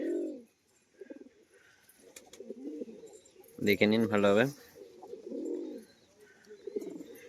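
Pigeons coo near the camera in a loft, one burst of rolling coos standing out mid-clip, with someone talking over the low murmuring calls around it.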